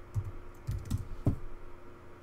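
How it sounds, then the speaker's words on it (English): A password being typed on a computer keyboard during a MariaDB install on Ubuntu: a few quick clustered key clicks, close and fairly quiet, with pauses between bursts. "So I'm going to type in a just some random password here"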